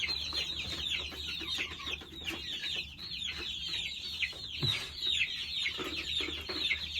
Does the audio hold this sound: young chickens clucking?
yes